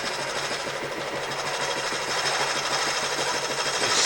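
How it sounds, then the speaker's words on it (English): A skew chisel cuts wood spinning on a lathe during offset turning, a close, rapid rhythmic chatter and whir that holds steady and grows slightly louder toward the end. "basically I can touch the bevel down, rotate it around until I see shavings coming off, and now I know I've got the skew chisel engaged"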